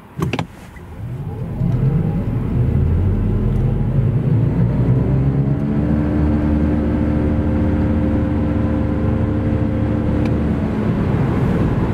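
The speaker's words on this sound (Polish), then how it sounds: "Przyspieszenie auta wygląda tak, najpierw od 0 do setki." A 2024 Mazda MX-30 R-EV with a 170 hp drivetrain accelerating hard from a standstill to 100 km/h, with a steady loud engine drone and rising tonal whine heard from inside the cabin.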